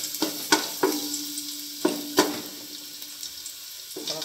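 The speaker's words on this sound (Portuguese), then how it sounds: "Vou colocar meus 3 dentes de alho picado. Vou deixar o alho pegar uma cozinha." Chopped garlic frying in a pan, a quiet sizzle broken by several sharp clinks and scrapes of a utensil against the pan.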